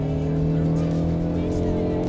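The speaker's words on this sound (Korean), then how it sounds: "여기서 가속을 한번 해보도록 하겠습니다." A hybrid SUV accelerates hard on a test drive, heard from inside the cabin as a loud, steady engine drone with a strong sustained hum and road noise that hold throughout.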